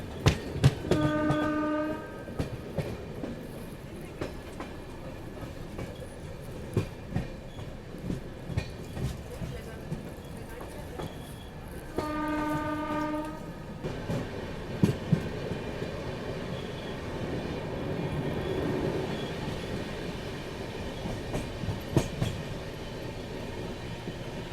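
Train on the Marudhar Express line rolling toward Merta Road Junction, with two loud horn blasts near the start and again around halfway, over a steady rumble and rhythmic wheel clatter.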